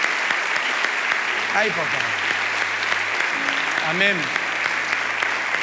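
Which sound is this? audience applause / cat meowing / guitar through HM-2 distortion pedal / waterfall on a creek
audience applause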